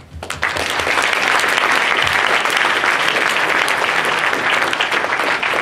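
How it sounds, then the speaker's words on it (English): A tech meetup audience gives a full round of applause after a demo, dense steady clapping that starts abruptly and holds at an even loud level throughout. "Good round of applause."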